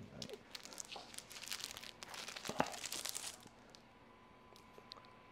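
Plastic wrapping around a set of art prints crinkles and rustles close up in several handled bursts, fading to quiet after a few seconds.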